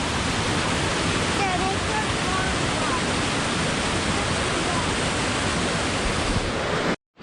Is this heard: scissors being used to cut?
no